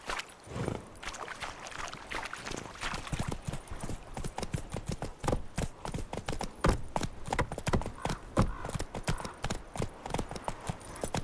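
Roach, the horse in The Witcher 3, gallops hard across open ground, a rapid, close, even clatter of hooves that keeps up a driving rhythm with no let-up.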